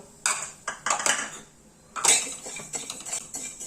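Rice being dry-roasted in a pan without oil, stirred with a metal utensil: a few distinct scraping clinks and rattles against the pan, close up, with quiet gaps between strokes.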